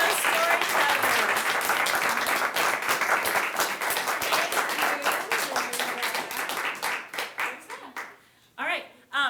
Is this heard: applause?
yes